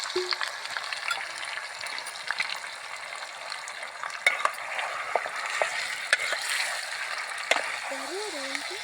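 Marinated country chicken is stirred in a pan over an outdoor wood-fire stove, with a continuous sizzle, scattered scraping and clinking from the spoon, and a voice speaking briefly near the end.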